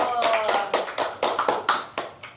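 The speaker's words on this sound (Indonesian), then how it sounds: "Tepuk tangan dulu" A small group at a group therapy activity session claps hands together in a short burst of sharp, roughly rhythmic claps, close and fairly loud.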